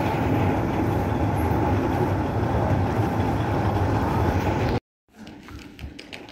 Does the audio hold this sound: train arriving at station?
yes